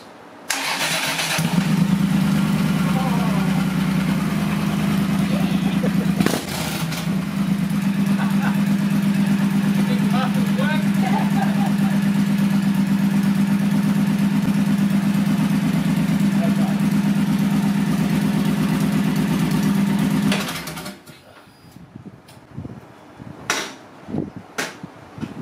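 A Triumph Thunderbird motorcycle engine runs with its exhaust pipes removed, a loud, raw, steady idle close by for about twenty seconds, then cuts off, leaving quieter handling noises.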